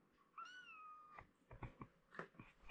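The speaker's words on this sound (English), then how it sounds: "I have the lovely kittens." Kittens give a few close meows, one long rising-falling cry followed by shorter chirpy mews, with quiet rustling between them.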